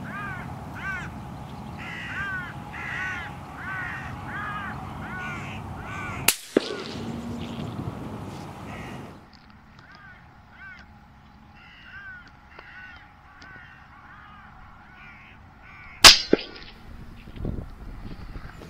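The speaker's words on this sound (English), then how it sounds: "a couple more hooded crows landed" Hooded crows caw repeatedly in harsh, rhythmic bursts, some near and some farther off, with a couple of sharp knocks partway through.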